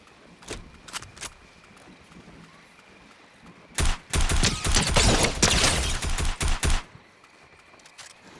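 Fortnite gunfire crackles in sharp, separate shots at first, then bursts into a dense, rapid volley of close, loud shots before tapering back to single cracks.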